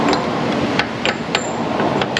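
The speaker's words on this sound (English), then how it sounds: "It's a big hammer, but I'm not swinging it hard." A big hammer taps a seal into an automotive housing in a repair shop, producing about eight light, evenly spaced metallic taps over a steady loud background hum.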